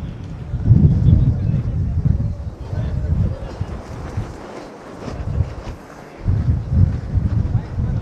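Gusts of wind buffet the microphone at an outdoor kirtan, heavy low rumbling bursts that rise and fall over several seconds with a voice faintly in the background.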